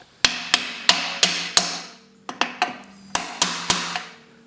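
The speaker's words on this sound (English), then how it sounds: "When you hammer it, the C-clip will seat." Sharp metallic hammer blows on a drift seating a C-clip on a BMW ZF320 shifter detent ring out in two bursts, five evenly spaced strikes, a pause, then a second run of quicker hits, close and loud.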